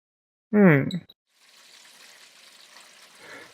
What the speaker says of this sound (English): the vigorous sound of splashing water was all that filled the now silent room